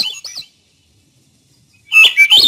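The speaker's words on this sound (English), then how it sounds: "Olive-backed thrush." Olive-backed thrush singing: a short whistled phrase, a pause of silence, then a louder, fluting spiraling phrase rising at the end, clear and close with no background noise.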